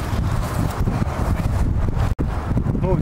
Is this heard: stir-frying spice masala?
no